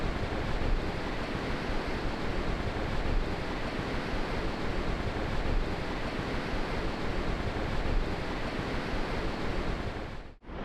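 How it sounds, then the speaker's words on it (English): Rough ocean surf at Muriwai beach roars steadily and loudly, a continuous broadband wash of breaking waves with wind noise, no voices, ending abruptly. "Got rough out there today actually, so hopefully we can get past the waves"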